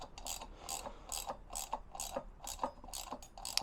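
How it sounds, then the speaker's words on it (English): A 14mm socket on a ratchet seats the sprocket bolts on a 1997 Kawasaki ZZ-R 1100 motorcycle, giving about eight close, crisp clicking bursts in a steady back-and-forth rhythm with no talk. "what I've got in my hand is just a 14mm socket"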